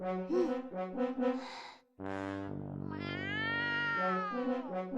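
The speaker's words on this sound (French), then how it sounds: "C'est un chat." Cat meowing in an anime scene, a series of drawn-out, rising and falling meows close up, one following another with a brief pause between.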